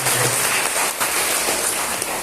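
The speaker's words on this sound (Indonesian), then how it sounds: "Tepuk tangan untuk 7 hamba Tuhan ini dan kasih" Audience applause at a church anniversary celebration, a steady dense wash of clapping that stays loud and even for a couple of seconds with no voices over it.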